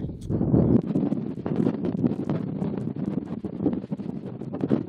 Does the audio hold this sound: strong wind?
yes